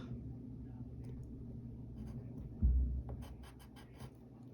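A pencil or pen draws lines on paper while sketching a comic-book character's hand, making faint, soft scratching strokes over a low background hum, with one brief low thump midway.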